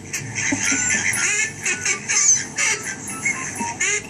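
A duck quacks in a rapid, choppy series of nasal honks that rise and fall like cackling laughter, close and loud, with no talking.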